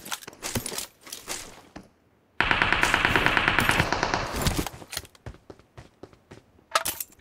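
An AK rifle fires a sustained automatic burst in a video game. Sharp scattered shots and clicks come before and after the burst, and there is no talk.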